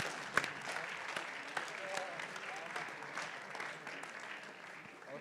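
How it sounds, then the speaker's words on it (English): Audience applause at a programming contest closing ceremony, a steady wash of many hands clapping at moderate distance with a few sharper close claps, continuing for several seconds. "Big applause for them."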